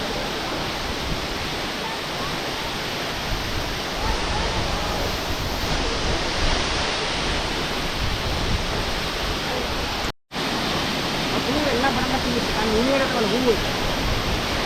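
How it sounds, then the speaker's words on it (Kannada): Didupe waterfall pouring water, a broad, steady roar that stays loud and unbroken apart from one sudden brief drop. Faint talk can be heard under the rushing water. "ಇವಾಗ ಯುಡಿಪೆ ಫಾಲ್ಸ್ ನೋಡಿಬಿಡಿ ಹೆಂಗಿದೆ"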